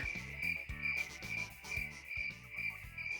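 Crickets chirping as a sound effect, a shrill, pulsing trill repeating in quick bursts over a low, throbbing insect or frog-like drone, with no voices.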